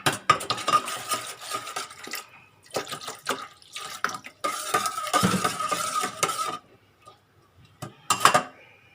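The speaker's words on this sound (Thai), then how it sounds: "แล้วก็จะคนให้กะปิเขาละลายด้วยนะคะ" A spoon stirs shrimp paste into water in a metal pot in irregular strokes, scraping and clinking against the metal, with short pauses in between.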